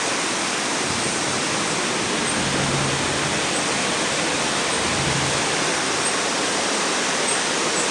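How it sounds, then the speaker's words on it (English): A river in the hills of Mexico rushes steadily nearby, a dense broadband roar of flowing water holding constant throughout with no voices. "There's the river."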